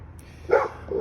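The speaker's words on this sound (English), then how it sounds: "that's my dog barking at the neighbor" A dog barks at a neighbor outdoors near a backyard pool, two short, sharp barks about half a second apart, fairly close and loud over a low background hum.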